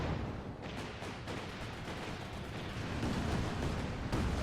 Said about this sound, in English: Artillery coming on in.